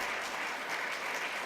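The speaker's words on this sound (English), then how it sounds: "can we give him a nice round of applause?" A room full of people gives a steady round of applause for an inductee at a fellows ceremony, dense and even throughout with no break.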